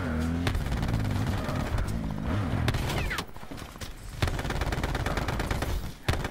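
Rapid bursts of gunfire in a multiplayer shooter video game, dense and loud over vehicle and turret noise, with a few brief gaps.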